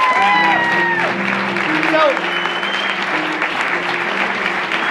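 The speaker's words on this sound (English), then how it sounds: "a big round of applause for J. Drake Hamilton" A comedy night audience applauds loudly and steadily with scattered whoops and cheers, a dense crowd clapping that fills the whole stretch while a faint musical tone hums underneath.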